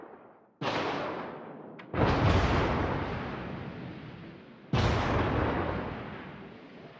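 Naval artillery in the World of Warships video game fires three heavy booming salvos, each a sharp blast trailing into a long rumbling decay, loud and close with no voices.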